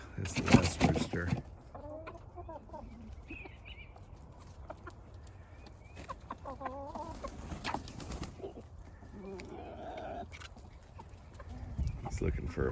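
Rooster in a meat breeding flock gives short clucking calls at moderate distance, with a few wing flaps and people talking quietly in the background.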